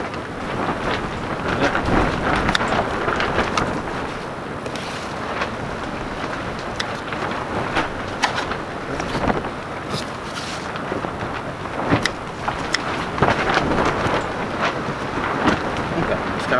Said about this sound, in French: Alors aujourd'hui toujours du vent, hein, vous l'entendez.